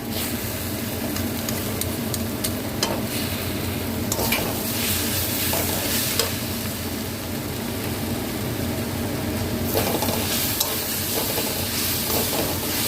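A spoon stirs food in a frying pan just after ghee is added, with a steady sizzle and scraping strokes running continuously at moderate volume.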